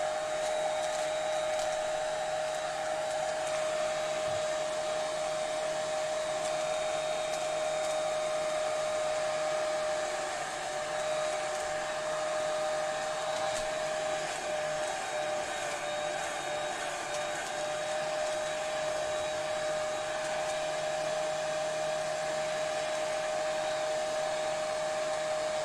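A hair dryer blows steadily and loudly for the whole stretch, with a constant high whine and broad airy rush, used to dry and smooth out wrinkles.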